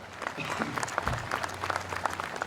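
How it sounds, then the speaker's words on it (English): Audience at a veterans memorial ceremony applauding, dense clapping continuing across the moment with a voice briefly heard over it. "Now a round of applause for all those folks."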